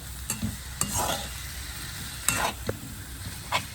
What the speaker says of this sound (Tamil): தக்காளி கறியை மட்டும் கொஞ்சம் நேரம் விடுவோம். இப்போ பாருங்க நல்ல தக்காளி பழம் வதங்கிட்டு